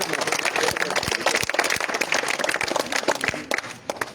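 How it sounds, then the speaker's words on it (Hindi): Crowd applause for a tape-ball cricket player at a prize distribution ceremony, with steady dense clapping for about four seconds that thins toward the end. "शानी के लिए जोरदार ताली शानी"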